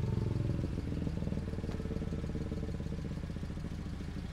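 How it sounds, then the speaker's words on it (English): A noisy motorcycle engine rumbles nearby with a steady, throbbing mid-pitched drone that fades slightly over the few seconds, with no talking. "Ignore the noisy bike that's just decided to turn up at this point."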